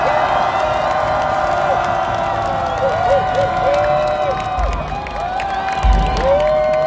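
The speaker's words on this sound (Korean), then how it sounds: "여러분 다시 한번 큰 박수 부탁드립니다." A crowd at a political rally outside Seoul City Hall cheers and claps continuously with scattered whoops, dense and loud throughout, with bursts of low thumping near the end.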